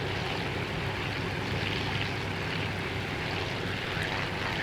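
Mitsubishi WWII warplane in a Coral Sea battle game: a steady, loud propeller engine drone with a broad rushing roar that holds without a break throughout.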